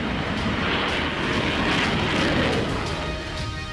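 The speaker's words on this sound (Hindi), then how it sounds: "आसमान में उड़ते अमेरिकी जेट" American fighter jets roar across the sky in a loud, continuous, broadband rush of engine noise that swells slightly and then eases, with no voices.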